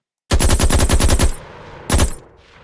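Automatic gunfire shooting zombies in an Unreal Engine 5 Call of Duty–style zombies game, a loud rapid burst of about ten shots followed by a single short second burst.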